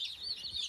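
Cornish cross meat chicks peeping in a brief close chorus of high, thin chirps.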